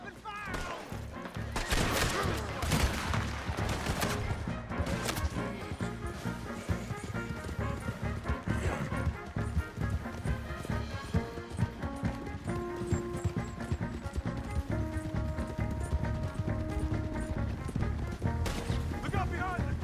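Galloping horses' hooves in Red Dead Redemption 2, a steady clip-clop rhythm running throughout, layered with gunshots, crashes and a swelling music score, while characters shout over the action.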